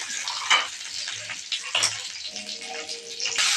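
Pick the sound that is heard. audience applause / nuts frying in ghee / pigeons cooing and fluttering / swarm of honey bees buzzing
nuts frying in ghee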